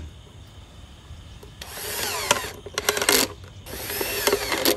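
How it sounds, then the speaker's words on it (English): Three bursts of a power drill whining as it bores into a plastic bottle, against a quiet background hiss. "I use the drill machine and screw to drill the bottle to be a vertical garden."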